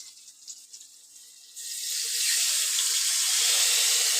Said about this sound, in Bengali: এবার আমি এর মধ্যে জল ঢেলে দিচ্ছি